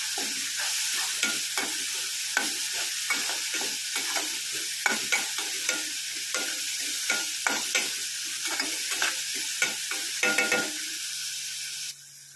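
Ground masala paste stirred and fried in hot oil for a shark mince dish, with a steady sizzle broken by repeated close scraping strokes of a spoon in the pan, no voices.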